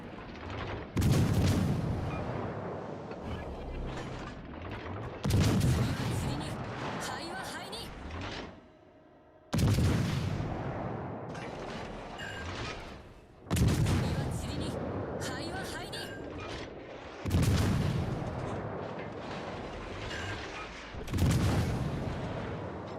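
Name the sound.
ship guns firing in a naval video game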